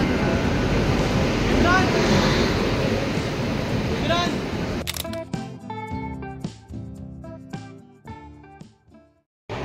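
A loud rumbling train ride at night with people talking over the noise, which then drops away to quieter, scattered tonal sounds.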